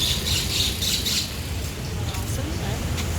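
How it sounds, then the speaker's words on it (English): A bird chirps and tweets among local flowers on a street in Hualien City, Taiwan. The calls come in short high bursts early on and fade later, over steady traffic rumble from passing cars and buses. "Oh, there's a bird. Oh, there's a bird back there."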